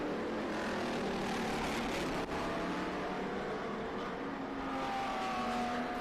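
A little red Corvette race car runs on the Circuit of the Americas track during a race, its engine a steady, sustained roar with a gradual pitch sweep as it passes, loud and continuous with no talk.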